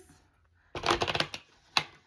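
Tarot cards being shuffled by hand come in a short burst of rapid riffling flutter, followed by a single quick slap of the deck, close and crisp in an otherwise quiet room.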